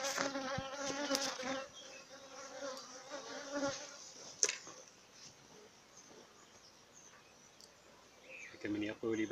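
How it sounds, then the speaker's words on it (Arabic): Honeybees swarm thickly over the frames of a crowded, strong hive, giving a dense, close buzzing hum that swells and fades, louder at the start and end, with a few sharper clicks mixed in. "نحل موجود فيها بكثرة حتى أنه يغطي إطار"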